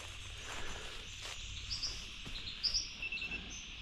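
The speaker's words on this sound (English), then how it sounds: "All that chattering there, brown geregonies." Busy high-pitched chattering of brown gerygones in wet sclerophyll forest, several short twittering bursts close by, over a steady insect-like hiss.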